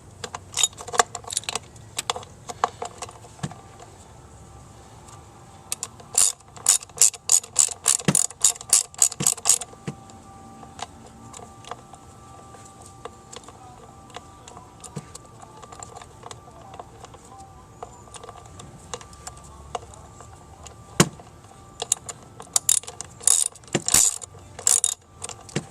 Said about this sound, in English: on the passenger side, you're going to remove this screw right here, and that's going to be 10 millimeters.